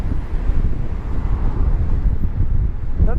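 Strong gusting wind buffets the microphone on a cloudy Tokyo street walk along the Meguro River toward Shibuya, a loud continuous low rumble of wind noise with no clear voices.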